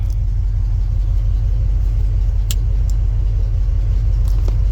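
An old Ford F100 farm truck engine runs at a steady, loud, low rumbling idle close by, with a few faint clicks over the continuous drone.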